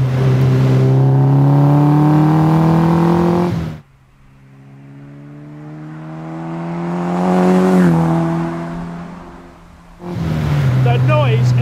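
Engine of an MK Indy RX-5, a kit car built on Mazda MX-5 running gear, revs loudly with a rasping exhaust, drops to a quieter idle, swells again, then surges back to full volume, close and sustained.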